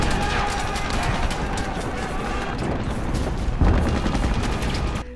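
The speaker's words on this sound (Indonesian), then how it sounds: "Serbuan bom itu menimbulkan reaksi dari awak kapal yang langsung melancarkan tembakan balasan." Naval cannon fire and gunfire exchange aboard a warship under bomb attack, off the Norwegian coast during the German invasion; a dense, sustained barrage of booms and shots with a heavier burst near the end.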